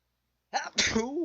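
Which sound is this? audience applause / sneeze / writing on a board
sneeze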